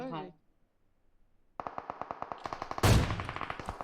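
Automatic gunfire in PUBG Mobile, including an M200, rattles out as a fast, evenly spaced burst of close, loud shots that swells into a heavier blast near the end, following a brief voice at the start.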